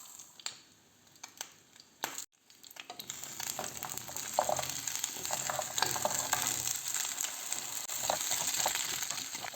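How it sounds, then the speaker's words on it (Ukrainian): Dumplings sizzling and crackling in hot vegetable oil in a pan, a steady frying hiss after a few clatters at the start, close by with no talking. "На розігріту пательню я налила рослинну олію та викладаю пельмені"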